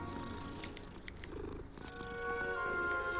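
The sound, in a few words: cat purring in Hogwarts Legacy video game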